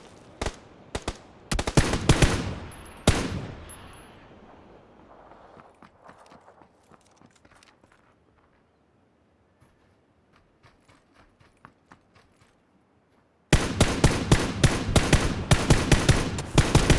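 Gunfire in a video game: bursts of loud, rapid shots at the start and a long dense volley near the end, with a quieter stretch of scattered faint clicks and steps between them.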